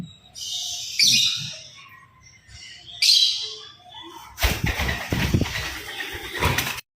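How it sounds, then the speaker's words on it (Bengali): A pet dove at its nest gives two short, fairly loud calls about two seconds apart, followed by a burst of rustling and handling noise close by. "দেখুন বন্ধুরা আমার ঘুঘু পাখির বাসা বাসায় ডিম পেড়ে দিয়ে গেছে"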